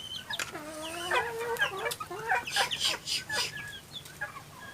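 Chickens cluck in a rapid run of short, overlapping calls, fairly close and clear over a quiet background.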